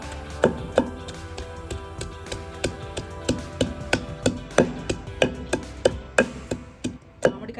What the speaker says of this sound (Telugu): ఇప్పుడు మామిడి ముక్కలు ఒక్కొక్కటిగా వేసుకుంటూ దంచుకుందామండి